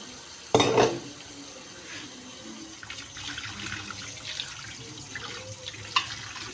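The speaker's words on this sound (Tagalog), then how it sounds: "hinuhugasan ko muna yan sa running water habang naka-spray mo siya" Water from a kitchen tap runs steadily over cooked pasta for carbonara, a soft continuous splashing with a louder burst near the start and light clinks of the strainer.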